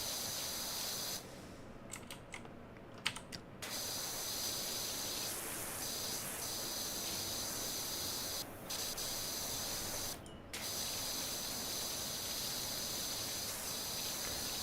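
Power washer in the game Power Wash Simulator blasting a wooden deck and its railings, a steady loud hissing spray that cuts out briefly a few times and then resumes, with no talking.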